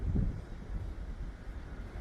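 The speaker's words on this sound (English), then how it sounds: "There's some serious wind tonight." Strong night wind buffets the microphone outdoors on a walk, a low rumbling roar with gusty swells, close and steady with no talk.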